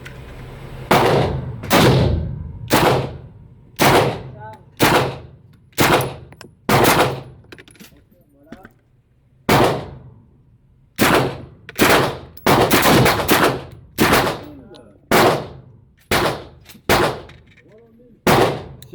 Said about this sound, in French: vous verrez les tirs